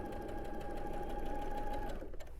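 A sewing machine stitching a quilt block along a marked line, running continuously with a fast, even mechanical whir and needle patter, close and loud, stopping just before the end.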